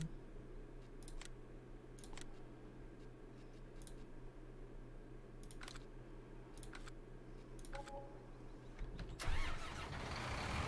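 A tractor engine in Farming Simulator 19 cranks and catches near the end, starting up loudly after a stretch of quiet, sharp clicks and a low steady hum.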